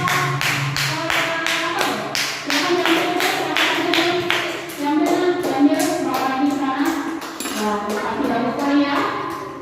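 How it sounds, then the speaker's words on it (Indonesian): Classroom group clapping in a quick, regular rhythm of sharp claps that continues throughout, with voices talking over parts of it. "beri tepukan dulu untuk kelompok"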